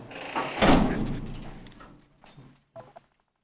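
An old Kone traction elevator door in an apartment building in Mustamäki, Mäntsälä closes with a loud sliding rumble that ends in a thud, then a few quieter clunks before silence.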